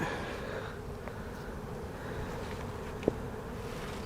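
Nurse bees cover a frame in a beehive, giving off a steady close drone with one brief sharp knock partway through.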